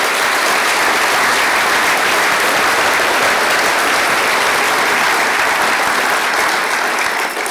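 Loud, sustained applause from a large audience, steady and dense throughout with no voices standing out.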